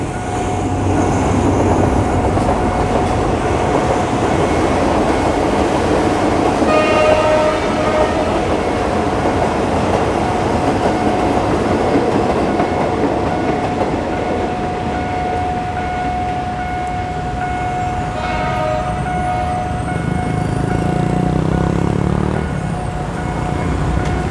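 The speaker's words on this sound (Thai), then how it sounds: "เสียงวีนนะครับ รู้เลยรถจากอันสตอม อ่า4110" An Alsthom diesel locomotive, number 4110, rolls through the Phet Uthai Road railroad crossing with a loud continuous rumble of engine and wheels and a sustained horn tone, close by throughout.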